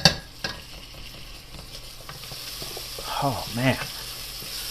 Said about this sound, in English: I'm just going to let these onions saute for a couple of minutes, get them soft.